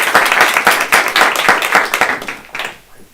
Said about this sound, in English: Can I please ask you, Tatir, to stand up and receive our applause?